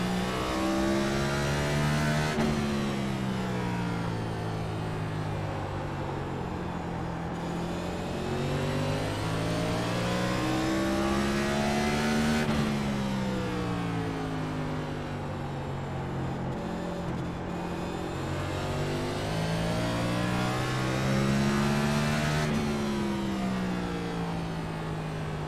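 A race car lapping a circuit, its engine holding a steady loud drone that rises and falls in pitch with repeated upshifts and downshifts through corners, heard continuously from on board with no talk.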